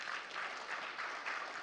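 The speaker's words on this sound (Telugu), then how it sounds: "మీరు ఒక్కసారి గట్టిగా చప్పట్లు కొట్టండి." An audience at a talk about the actor Balakrishna claps together, producing a faint, distant patter of applause with gentle pulsing swells over a short stretch.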